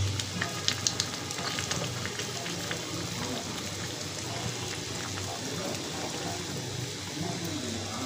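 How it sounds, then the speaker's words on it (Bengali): A pot of sweet pumpkin boils, giving a soft, continuous bubbling hiss with faint scattered pops, fairly quiet and steady throughout. "কুমড়া সিদ্ধ হচ্ছে।"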